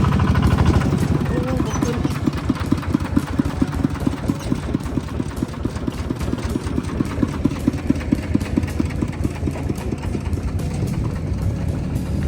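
A tractor engine runs throughout with a steady chugging and rapid rhythmic putter, fairly loud and close, with faint voices underneath.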